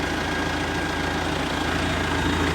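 The heavy diesel engine of a 2001 Cat TH62 telehandler idles steadily and close by, a continuous low rumble with no voices.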